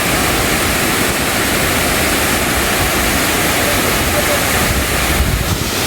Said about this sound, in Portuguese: E na Rota do Galo tem a Cascata do Galo.